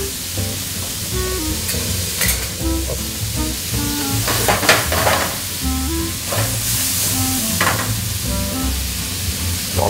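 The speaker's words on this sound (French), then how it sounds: "On va laisser colorer un petit peu les lardons." Bacon lardons fry in a pan over a strong gas flame for a truffade, a loud continuous sizzle with repeated spatula stirs and scrapes over ten seconds, no speech.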